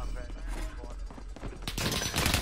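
Shots ring out from a shooting video game, a short burst of rapid gunfire arriving late after a quieter stretch of game sound.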